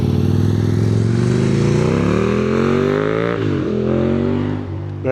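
Aprilia 1000 motorcycle riding off from a bike night: a loud, close engine revving steadily, its pitch climbing through the gears before dipping briefly at the end.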